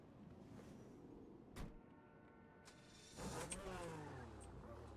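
A car in FiveM starting up and pulling away, a brief mechanical thump then a door-like clunk, followed by the engine revving and accelerating up through the gears, fairly close.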